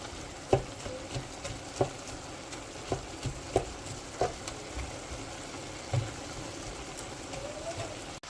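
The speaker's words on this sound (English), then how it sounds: "Now it'll take about 10 to 15 minutes for your mushrooms to cook down" Chopped mushrooms cooking down in a pot for cream of mushroom soup: a soft, continuous sizzle with scattered light taps and clicks from stirring, fairly close and steady.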